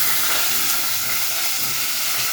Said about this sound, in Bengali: তেলটা গরম হয়ে আসছে, এর মধ্যে 1/2 কাপের মতো পেঁয়াজ কুচি এবং কয়েকটা কাঁচামরিচ দিয়ে দিলাম